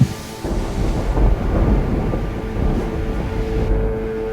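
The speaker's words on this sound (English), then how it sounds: "All I could hear was the sound of thunder and the trees rippling in the wind." Deep rumbling thunder rolls beneath a steady rush of wind, a continuous low roar that swells and eases without pause.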